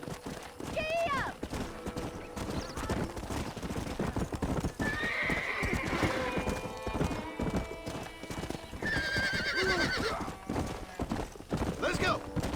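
A horse gallops in the video game Red Dead Redemption 2, its hooves drumming in a steady, continuous clip-clop with a couple of sharp whinnies, while in-game voices talk over the ride.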